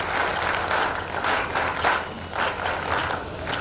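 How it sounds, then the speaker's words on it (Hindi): A crowd at a youth organisation gathering in Ujjain during the Kumbh claps to welcome a government secretary, a loud, dense wash of applause with slight surges that fills the whole stretch without any talk. "उनका तालियों से स्वागत किया जाए"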